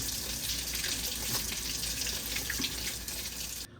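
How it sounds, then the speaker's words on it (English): Cold tap water runs steadily into a kitchen sink over hard-boiled eggs being peeled, a continuous close splashing gush that stops abruptly at the end, with no talk. "if you run them under cold water, the shells come off pretty flawlessly"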